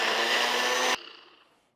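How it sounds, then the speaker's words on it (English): Kitchen blender whirring loudly and steadily as it purées cottage cheese with blueberries, cutting off abruptly after about a second and leaving a fading mechanical ring-down. "we are just gonna blend this until smooth"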